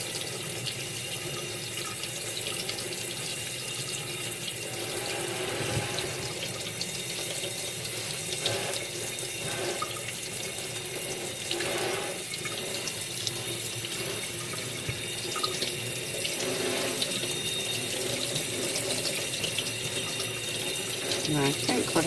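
Tap water runs steadily into a sink to rinse an etched piece, a continuous broadband splashing flow with faint clinks of handling underneath, close and even throughout.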